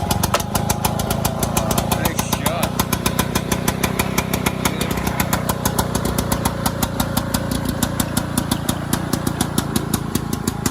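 A Victa lawn mower engine running after a cord and filter fix, a loud, close, rapid regular putter of firing strokes sustained throughout with slight roughness.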